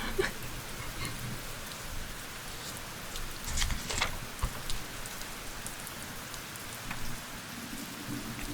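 Steady rain falls on a surface, a dense, even patter of drops with occasional sharper splashes, heard softly in the background with no voices.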